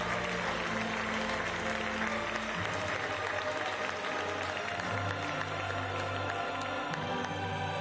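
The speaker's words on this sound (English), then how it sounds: "The Chateau Shooting Centre erupts with applause for Natascha Hiltrop of Germany" Sustained audience applause fills the Chateau Shooting Centre at a para shooting rifle event, a dense, steady roar of many clapping hands with crowd noise and a low hum beneath, continuing without pause.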